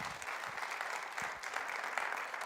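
A church congregation at a Sunday service applauds, a dense, even wash of clapping that holds steady throughout.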